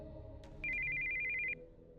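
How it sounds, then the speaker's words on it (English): Cell phone ringing with an incoming call in the Steins;Gate 0 visual novel, a bright electronic trilling tone held for nearly a second after a couple of short chirps, over faint low background music. "we heard the sound of an incoming call on the cell phone."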